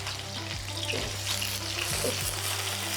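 Potatoes frying in a pan in a home-style kitchen give off a steady, even sizzle with a low background hum throughout.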